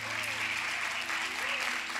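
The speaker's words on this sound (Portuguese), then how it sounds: "Você pode dar uma salva de palmas para o Senhor?" Congregation applauding inside a church during an evangelical service, a steady wash of clapping that fills the whole two seconds at moderate loudness, with low sustained tones under it and no clear speech.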